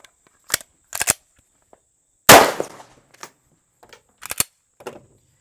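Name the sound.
live gunshots fired in a pistol flinch drill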